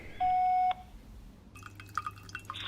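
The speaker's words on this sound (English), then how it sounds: "Please leave a message after the tone." Answering machine tone: a single steady electronic beep lasting about half a second, followed by quiet and then scattered faint bleeps and clicks.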